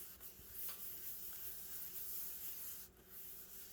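Tape being rubbed and pressed down flat onto a handmade junk journal cover, a steady close scratchy friction that continues evenly for a few seconds without talk.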